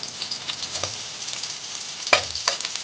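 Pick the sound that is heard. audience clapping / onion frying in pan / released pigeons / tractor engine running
onion frying in pan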